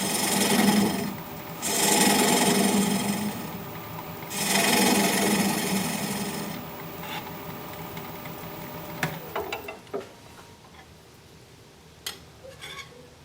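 A wood lathe spins while a tool cleans up a tenon on a cork oak bowl, giving rough rasping bursts of scraping that rise and fall several times, then taper into lighter scrapes and taps near the end.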